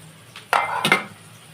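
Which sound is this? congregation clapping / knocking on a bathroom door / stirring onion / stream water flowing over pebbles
stirring onion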